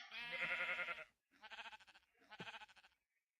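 A brown sheep in Minecraft bleats three times in quick succession, the first call longer and louder, the next two shorter, close and clear with no talk over them.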